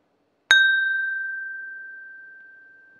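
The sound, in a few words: whisky glasses clinking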